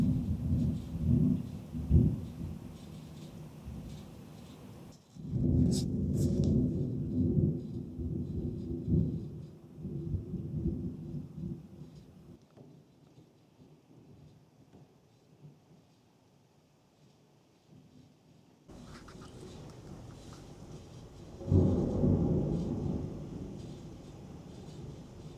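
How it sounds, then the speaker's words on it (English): A summer thunderstorm fills the air with steady rain and deep rolling thunder, swelling and fading over time, with a quieter lull before the downpour and rumble return, heard alone without talk. "we're getting a really great summer thunderstorm right now"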